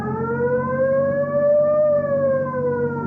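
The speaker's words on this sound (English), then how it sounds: "You want to hit the siren?" Police car siren in a radio drama, a single long wail rising then slowly falling, clear and steady over a low engine hum, no talk.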